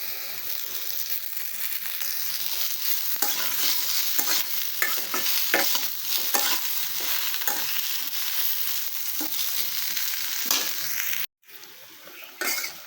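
Pointed gourd (potol) frying in oil in a village kitchen, a steady close sizzle broken by repeated scraping stirs against the pan, with a short pause near the end before the frying resumes.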